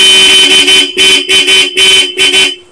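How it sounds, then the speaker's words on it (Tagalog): A loud electronic horn on a Honda ADV160 motorcycle blares in six rapid, closely spaced blasts, each a bright, shrill tone with short gaps between them. "Pag nag-loud horn ka naman"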